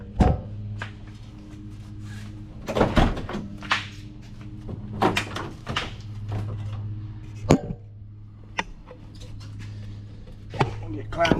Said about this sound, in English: So let me get the door open.